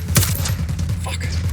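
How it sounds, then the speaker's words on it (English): Gunfire erupts in a Ghost Recon Wildlands firefight, a dense burst of overlapping shots and thuds, loud and close, with other battle noise layered throughout. "Opening fire."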